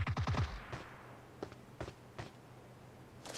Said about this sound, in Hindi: मेरे ही टीम मेंबर ने फायरिंग की है।